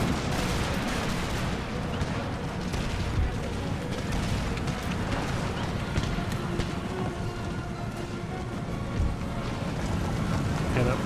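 Continuous battlefield din from Empire Total War combat, with dense, overlapping booms of artillery and volleys of musket fire rolling throughout, loud and layered with no break.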